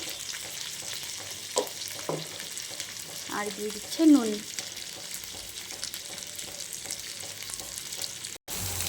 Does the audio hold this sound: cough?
no